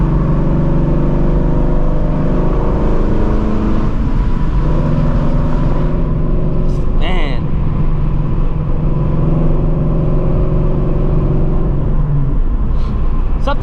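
A Shelby GT350 Mustang driven in fun mode, its engine a loud, steady, deep drone with harmonic tones shifting as revs rise and fall, heard from inside the car, with a brief sharper noise partway through.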